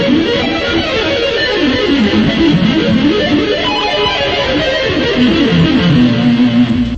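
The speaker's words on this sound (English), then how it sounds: "Like if I'm doing hammer-ons, a lot of times I'll double up on the first couple notes" An electric guitar plays a fast lick of hammer-ons and pull-offs, doubling the first notes and moving through chromatic outside lines, in a dense, continuous stream of rapid notes at steady volume.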